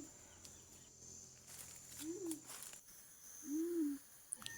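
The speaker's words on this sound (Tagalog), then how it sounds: "Yung iba guys nasa taas lang humuhuni naghahabulan." Birds call from the treetops in a wooded area, two soft hooting notes a second or so apart over faint insect buzz and rustling, at moderate distance.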